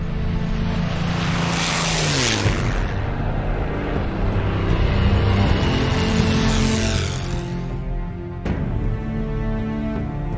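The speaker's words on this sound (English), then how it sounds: "It's the most phenomenal engine propeller combination I believe that was ever built." A propeller-driven warbird airplane roars loudly and continuously, its engine drone rising and falling in pitch as it sweeps past close by, with no voices over it.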